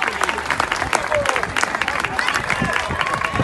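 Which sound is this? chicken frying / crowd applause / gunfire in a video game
crowd applause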